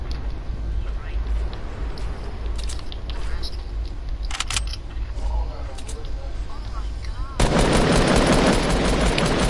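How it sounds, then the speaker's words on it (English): Automatic gunfire rattles in a video game, with bursts and sporadic shots under excited talk from several players. A long, loud volley dominates the final couple of seconds. "Stop shooting, Jermaine."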